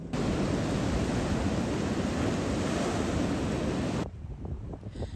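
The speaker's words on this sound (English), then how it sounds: "The waves were so large that as they crashed on the reef, they filled up the lagoon" Large ocean waves crash on a reef at a remote, boat-access-only surf break by a lagoon, a loud, roaring wash of surf that holds steady and then drops sharply to a quieter rumble near the end.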